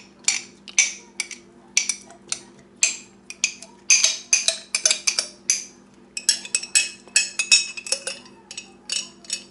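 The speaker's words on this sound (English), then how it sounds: "So here in this pan we're going to put our pinto beans." Canned pinto beans go into a metal pan with a steady run of sharp metallic clinks and clatters, close and fairly loud, against a quiet background with a faint steady hum.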